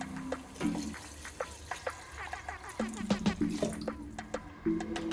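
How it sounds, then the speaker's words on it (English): Stock water from cooked chicken pours and trickles into a tomato sauce for jollof rice, giving a soft splashing flow with small clinks. Close and fairly quiet, with no voices. "I'm going to now add my water. Going to use some water from the chicken."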